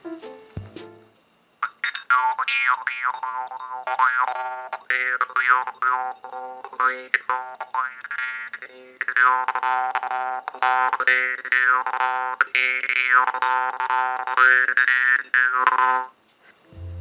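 Twangy jaw harp playing a continuous rhythmic drone with wah-like shifting overtones, close and alone, with a few brief pauses.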